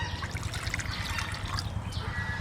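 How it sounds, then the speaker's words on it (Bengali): Water trickles steadily into a ground spice paste of onion, dried red chilli, cumin, coriander, ginger and garlic, a continuous soft pouring and splashing with no voices. "এই মশলার মধ্যে আমি দিয়ে দেবো একটু জল।"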